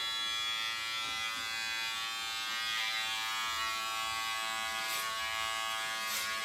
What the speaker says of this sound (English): Right now it's clipper over comb.